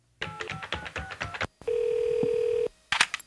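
A comedic telephone sound effect: a rapid run of dialing tones and clicks, then a steady electronic ringing tone lasting about a second, ending with a brief burst of clatter.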